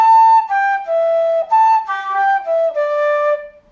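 A single flute plays a flowing phrase of high notes that begins on high A and steps downward, each tone held clearly and close, with no talking over it.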